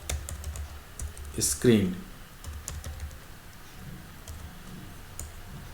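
Computer keyboard keys clatter in quick, uneven runs as C code is typed during a programming lesson, with someone speaking over the typing.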